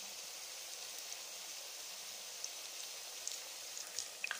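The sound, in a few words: gram flour (besan) pieces frying in ghee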